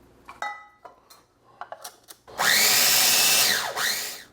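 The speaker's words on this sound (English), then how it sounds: "I have some rich crackers, some pecans, and some sugar into this food processor, and I'm going to start by grinding that" A food processor grinds rich crackers, pecans and sugar, starting after a few clinks and taps, then roaring in a loud, steady whirring drone with a brief dip in pitch near the end.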